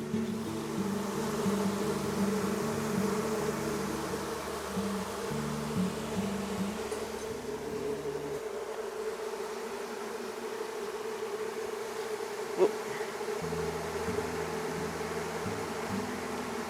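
Dense, steady buzzing of many bees around an old hive in a gum tree, close by, a layered hum that shifts in pitch, with a brief knock near the end.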